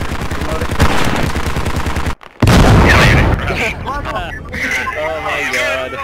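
Bursts of automatic gunfire in a military shooter game rattle loudly, stop for a brief silence, then resume with a heavy boom, while players talk over the shooting.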